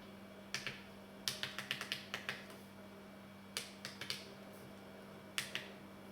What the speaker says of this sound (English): Just to show you the full functionality of the keyboard